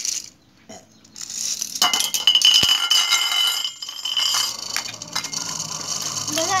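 Two spinning tops clash in a children's top battle: whirring spins with sharp metallic clinks and a hard knock, then a sustained buzzing rattle, close and fairly loud.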